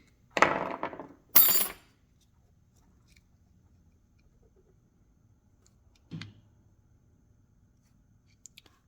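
Plastic housing of a car blend door actuator being pried open with razor blades: two sharp cracking snaps close together, then a softer click a few seconds later, with near silence between.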